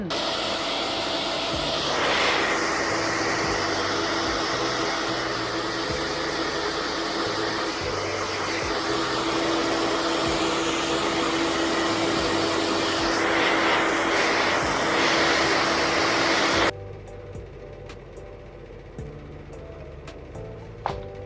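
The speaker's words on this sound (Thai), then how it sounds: "เดี๋ยวเป่าผมก่อนนะคะ ทุกคน" A hair dryer blows loudly and steadily at close range while drying wet hair at night, a continuous whooshing roar for about sixteen seconds before it switches off, leaving a quiet room with faint small noises.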